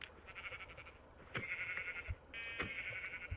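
Sheep bleating in the Minecraft video game, two or three short bleats at moderate loudness over a soft ambient game background, with no talking.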